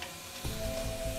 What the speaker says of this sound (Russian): Печеный чеснок, имбирь, все это мы пожарим.